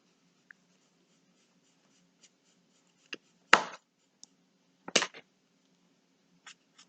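Coloured pencils scratch across a mandala colouring page in short, sparse strokes, with a few louder rubbing bursts separated by quiet pauses.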